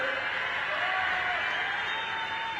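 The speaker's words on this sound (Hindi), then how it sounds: "जोर से ताली बजाइए जरा।" Continuous applause from a large crowd at an outdoor political rally, a steady dense wash of clapping that holds at an even level throughout, with a faint voice audible beneath it.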